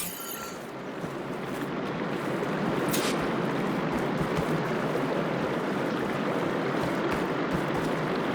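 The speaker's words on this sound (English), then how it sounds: "I can hear water in the room again" Water flowing steadily inside a room in Horizon Forbidden West, a continuous rushing wash that swells in after a quiet start and holds even and close, with a brief bright splash near the third second.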